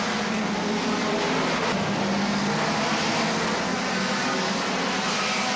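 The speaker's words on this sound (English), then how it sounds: "And the noise as these cars come roaring through in front of us here, absolutely ear-splitting." Hot rod race cars thunder past at a 1975 World Final oval meeting, a dense, continuous roar of massed engines filling the whole clip at steady loudness with no break.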